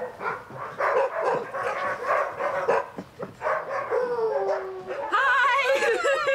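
Sled dogs kept for 1,000-mile races howl, bark and yip together in a dense, loud chorus that runs throughout, with rising and falling howls that grow stronger near the end.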